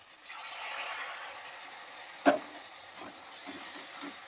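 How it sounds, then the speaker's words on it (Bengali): Hot water splashes into a pan of sizzling chilli spice masala with Kashmiri chilli powder for a Bengali rohu fish kalia, giving one brief burst over a steady frying hiss. "মশলাটা যাতে ধরে না যায় তার জন্য আমি একটু গরম জল দিয়ে দেব।"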